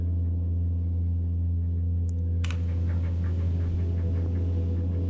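A quiet static room tone texture from a Digitakt sampler in an ambient setup sits as a steady low hum, with a couple of brief faint clicks partway through and soft tonal flickers after.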